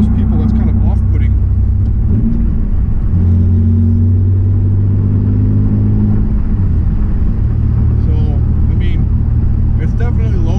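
A 2002 Pontiac Firebird with a V6 and five-speed manual gearbox cruises a 45 mph country road, its steady low engine drone and road rumble rising and falling through gear changes, with a voice talking over it.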